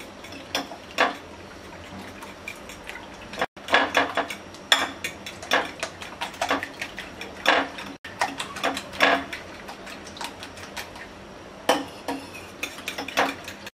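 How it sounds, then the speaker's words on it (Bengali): Eggs mixed with half a spoon of crushed fried chili and half a spoon of salt are beaten hard in a bowl. A fork or whisk clatters against the sides in quick, rhythmic bursts, close up with brief pauses. "এবার ডিমটা ভালোভাবে ফেটিয়ে নেব।"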